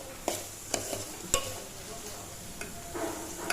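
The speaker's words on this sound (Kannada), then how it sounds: "ಎಣ್ಣೆಗೆ ಟೊಮೆಟೊ ಸಾಫ್ಟ್ ಆಗೋ ತನಕ ಬೇಯಿಸ್ಬೇಕು" Tomato cooking in oil in a pan, a faint, soft sizzle broken by a few sharp spoon taps and scrapes near the start, with no talk.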